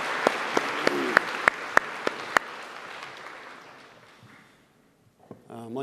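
A church congregation applauds during a Sunday service pastor installation: sharp individual claps over a bed of crowd clapping that gradually fades to near silence, with a few faint sounds at the end.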